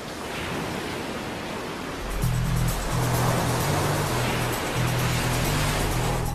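Giant ocean tides with huge waves crashing, a loud, continuous roar of surging water that swells and thickens partway through, joined by a deep, pulsing low rumble, with no voices.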